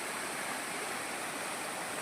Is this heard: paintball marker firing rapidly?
no